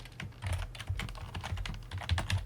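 Fast, steady typing on a computer keyboard while entering C# code, a dense run of crisp key clicks close to the mic with no voices.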